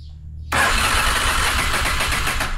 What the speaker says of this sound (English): Now the engine should turn over.